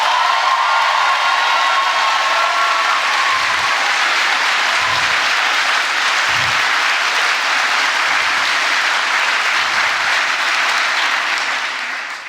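A large audience claps steadily and densely for about twelve seconds, welcoming Sir Terry Pratchett onstage at a talk, with a few faint whoops rising from the crowd; the applause stays sustained and loud until it fades slightly at the very end.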